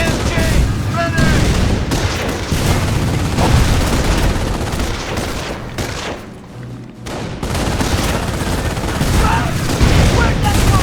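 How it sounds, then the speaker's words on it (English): Infantry gunfire in the World War II strategy game Company of Heroes, Carentan mission: dense, continuous bursts of rifle and machine-gun fire with booming impacts, briefly thinning midway before resuming at full loudness. "Ground infantry is firing on us!"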